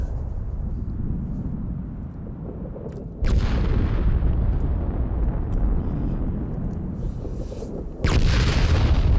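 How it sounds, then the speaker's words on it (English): Explosions go off in Fallout 76, two sudden heavy booms with deep rumbling bursts that roll on and slowly fade between blasts, loud and close with no talk. "Look at all the explosions."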